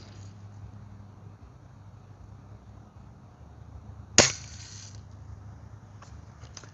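Single gunshot fired at a store-bought shooting target, heard as one sharp, fairly distant crack over low background rumble, followed by a faint second tap.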